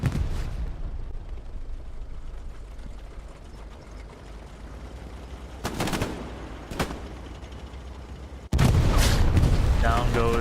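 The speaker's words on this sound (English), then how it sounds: "Down goes the Stewart tank. Don't know if he ran over a mine or if he got satcheled." In Hell Let Loose, a Stuart tank blows up from a mine or satchel charge: a continuous rumbling battle bed, a couple of sharp cracks, then a sudden loud blast that stays thick and roaring, with muffled voices underneath.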